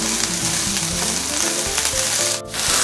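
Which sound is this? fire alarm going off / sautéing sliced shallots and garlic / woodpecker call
sautéing sliced shallots and garlic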